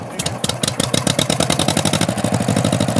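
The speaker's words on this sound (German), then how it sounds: "was ist das für ein Motor?" An old Siemens & Halske stationary engine of about 120 horsepower chugs close by, its firing picking up from uneven first strokes into a fast, steady pulsing beat.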